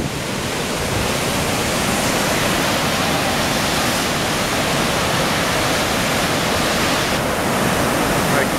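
Water roaring through the Gavins Point Dam spillway during a heavy release, a loud, dense, unbroken rush of white-noise-like torrent close to the recorder, steady throughout.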